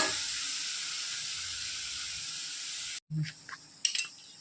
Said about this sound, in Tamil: பாருங்க வெங்காயம் நல்லா கொஞ்சம் வதங்கிடுச்சு